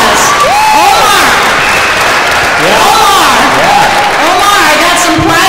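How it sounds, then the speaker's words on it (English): Audience applause with cheering and whoops at a 2017 Tri-Cities youth and justice forum, a loud, dense, steady clatter of many hands filling the whole stretch. "Let's give a round of applause."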